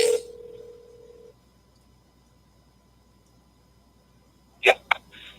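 After a phone call drops, a steady electronic telephone tone sounds for just over a second, then stops. A quiet stretch follows before a couple of brief, sharp noises at the end.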